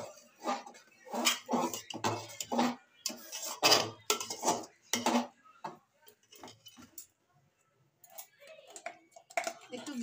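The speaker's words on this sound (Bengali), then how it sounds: "এবার নাড়িয়ে নেব ভালো করে" Khichuri is stirred in a cooking pot with a spoon, making a rhythmic series of clinks and scrapes against the metal, close and moderately loud, then a quieter stretch before a few more taps.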